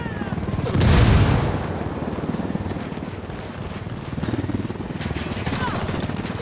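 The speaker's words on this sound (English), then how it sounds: "Watch out! Grenade! Grenade!" A grenade bursts in the Ghost Recon Wildlands shooter: one heavy, deep boom about a second in, rising out of a steady wash of gunfire and battle noise that carries on afterward.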